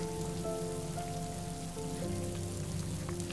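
Drizzle falls in a steady, soft hiss that fills the whole stretch, with sustained tones running underneath and no voices.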